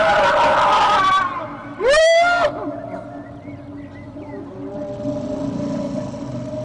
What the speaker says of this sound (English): The scream is pretty spectacular.